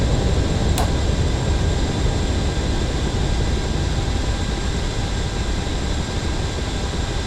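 Steady, loud aircraft engine roar from a jet climbing just after takeoff in a flight simulator game, a constant broadband drone with a brief click near the start and no talk.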